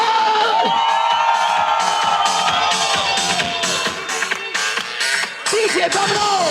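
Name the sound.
crowd cheering and making noise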